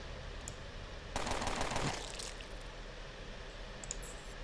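Automatic gunfire from the post-apocalyptic video game Underrail: one dense rapid burst lasting under a second, loud against a low steady background, followed by quieter scattered clicks.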